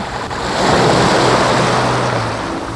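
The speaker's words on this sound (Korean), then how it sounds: "동글동글한 자갈과 파도가 부딪힐 때마다 들려오는 소리는 마치 즐거운 수다처럼 느껴지죠" Waves wash over the round pebbles of Bongdol beach in Yeosu, Korea, a loud, continuous rushing surge that swells and recedes, with wind noise and no voices.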